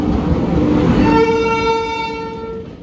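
Kolkata–Jammu Tawi Express passenger train hauled by a Ghaziabad-based locomotive, its loud horn blaring steadily over the rumble of the rolling train, close by and fading slightly toward the end.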